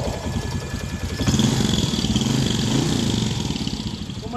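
A motorcycle engine, a 150cc bike running on ethanol, idles low and steady, a close, even putter that swells slightly in the middle and then settles back.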